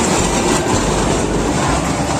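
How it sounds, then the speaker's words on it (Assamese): A train rolling through a busy market area, giving a steady broadband rumble with faint clickety-clack of wheels over the rails, loud and close throughout with no talking. "এখন ৰেল"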